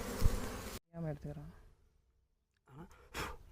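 Bees buzzing during a honey harvest, a raspy insect drone heard in short bursts between people talking nearby.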